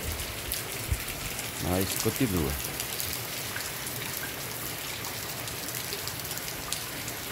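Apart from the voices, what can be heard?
rain falling in Santana do Ipanema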